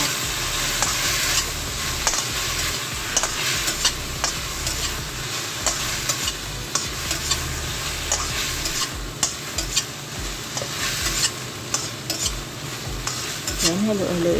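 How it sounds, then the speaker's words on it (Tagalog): Bitter gourd fries in a pan with oyster sauce and light soy sauce, a steady loud sizzle running throughout while a utensil stirs it with repeated scraping clinks and knocks against the pan; no talking. "halo-haloin lang natin siya hanggang ito'y lalambot"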